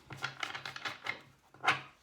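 Tarot cards shuffled by hand, a quick series of soft, crisp riffling slaps in an uneven rhythm ending in one louder snap, close and alone with no talk.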